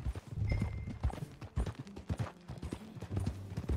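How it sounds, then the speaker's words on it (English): Video game horse hooves clip-clop in an uneven rhythm on hard ground, fairly close, with a few soft background sounds. "That a new horse?"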